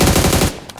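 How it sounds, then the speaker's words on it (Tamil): Machine gun fire in a video game: one loud, dense burst of rapid shots lasting about half a second, then it stops abruptly, close and alone with no speech. "சும்மா ஒரு 40 புல்லட் சுடு."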